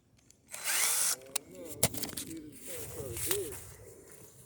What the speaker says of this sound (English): I hope your drill can drill holes.